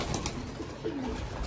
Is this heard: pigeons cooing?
yes